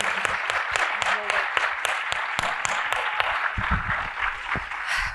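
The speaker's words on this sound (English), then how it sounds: "Give us a round of applause" A crowd gives steady, sustained applause after an interview, dense clapping running the whole time with crisp individual claps standing out and some voices mixed in.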